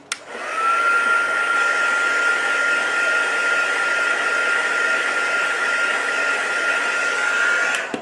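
A heat tool dries a mixed media tag with a steady, close, loud whooshing blow and a high whine, starting with a click and running alone until it clicks off.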